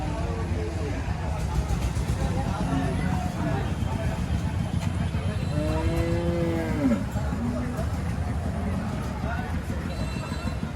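Cows at the Kazirhat cattle market moo in a few drawn-out calls over a steady din of crowd chatter and livestock bustle.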